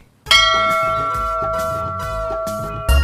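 A temple bell struck several times in close succession, bright ringing tones that overlap and sustain, with a final louder strike at the end.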